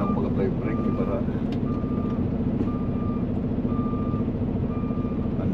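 A reversing truck's backup alarm beeps steadily about once a second, each tone clear over a loud rumbling engine and wind, with someone talking nearby.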